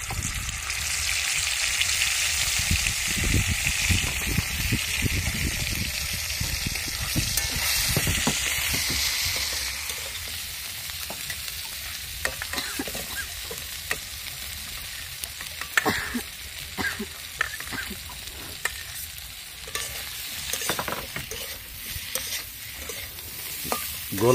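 A curry of fish and potatoes fries in oil in a pan, outdoors by a river, a steady loud sizzle with scraping stirs that grows patchier and more clattery toward the end.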